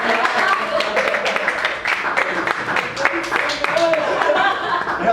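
An audience at a design talk claps loudly and close, mixed with chuckles and overlapping voices as people talk throughout.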